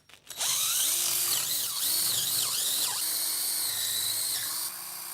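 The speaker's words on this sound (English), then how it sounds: "I'm just going to do a 3mm pilot hole first." A power drill bores a 3mm pilot hole into hard timber for a dining table build, a loud steady whine with shifting pitch that runs almost the entire time, with brief speed dips along the way.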